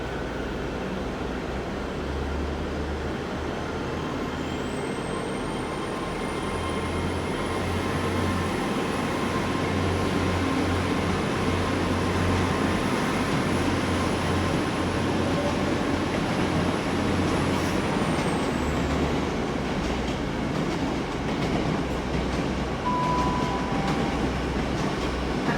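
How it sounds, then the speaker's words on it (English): A Great Western Railway train pulls out of Exeter St Davids bound for Penzance, its engine rumbling steadily for the whole stretch with a long high whine rising and then falling away, heard from the platform without talk. "about to go out now will be the Great Western Railway service to Penzance"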